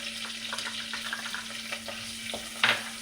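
Ginger and green chili sauté in hot oil for a Kerala-style mackerel curry, a gentle crackling sizzle broken by light stirring taps and a sharper clatter near the end, close and fairly quiet.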